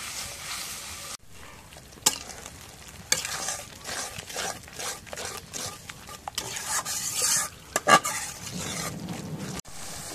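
Garlic paste, cumin paste and garam masala frying in a pan while being stirred, a continuous sizzle with irregular scraping and rasping strokes and a few sharp knocks, close up with no voices.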